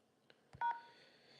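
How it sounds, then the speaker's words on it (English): Telephone keypad tones on an automated claims phone line: a faint tick, then one clear, loud DTMF beep, close and alone, with a faint hum trailing after. "Please press any key on your phone to continue the call."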